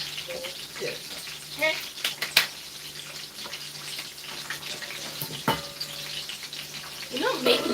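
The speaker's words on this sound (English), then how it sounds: "We just need to stir it up a little bit and then leave it to cook." A pot of jollof rice cooking on the stove, with a soft continuous sizzle and occasional scraping knocks of a spoon as it is stirred, plus faint background clatter.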